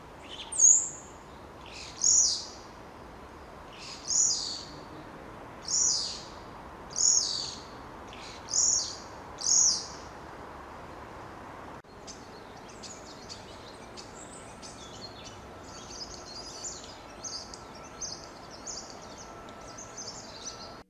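A spotless starling sings from a poplar treetop, giving a regular series of seven bright, whistled phrases at steady intervals, then a looser run of chattering and mimicked calls of other birds over a soft outdoor background.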